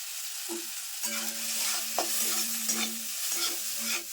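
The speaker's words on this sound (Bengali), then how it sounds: "মশলাটা কিন্তু খুব সুন্দর করে ভেজে নিয়েছি" Spices frying in a pan with salt and turmeric make a constant bright sizzle, broken by repeated scraping strokes of a spatula stirring against the metal.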